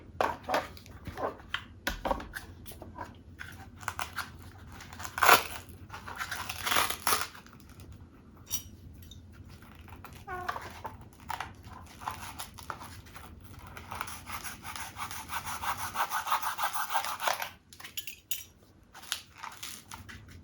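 Plastic part of a float attachment for a Mavic Air 2 drone being cut off, giving scattered crunching, snipping and crinkling noises with a few sharper clicks, close up and with no talk.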